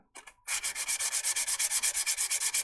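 180-grit sandpaper held against a turning piece on a lathe gives a loud, close, rapid rhythmic rasp, pulsing evenly about eight times a second after a couple of brief initial touches.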